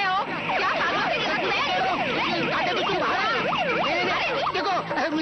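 Siren of an arriving municipal vehicle in a movie scene, a loud wailing siren sweeping up and down continuously, with raised voices mixed in.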